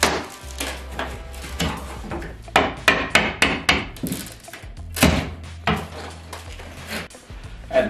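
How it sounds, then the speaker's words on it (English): Crowbar prying and knocking off bathroom tile during demolition, a run of sharp, close cracks and clanks in irregular bursts, some quick and clustered, others spaced apart. "I had to break the crowbar out."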